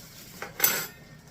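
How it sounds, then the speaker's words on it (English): A spoon scrapes and clinks against a pan while cream cheese is stirred into shredded chicken for smothered burritos. There is a faint tap, then a longer scraping stroke, quiet and close, with no talking. "we're going to get that stirred in there and melted in there to make it creamy"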